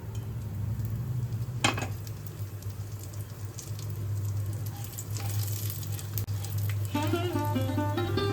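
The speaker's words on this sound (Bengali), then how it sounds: "এবার আমি জিরে, তেজপাতা, শুকনো লঙ্কা সহ হোল গরম মশলা দিয়ে দিলাম।" Cumin, bay leaf, dried chili and whole garam masala sizzle in hot ghee for paneer kaliya, a steady crackling fry close up with brief stirring clinks.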